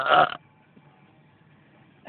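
A man lets out one short, loud, throaty belch close to the mic at the start, followed by near silence with a faint low room hum.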